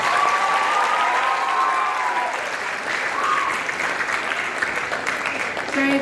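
Steady, dense applause from a school assembly audience during an anti-bullying event, continuous clapping at even loudness for the whole stretch with faint crowd murmur underneath.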